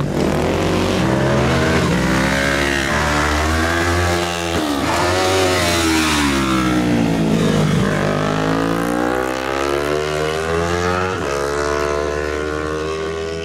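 A motorcycle engine revs loudly and close up, its pitch rising and falling steadily as it pulls away, with no talk over the engine.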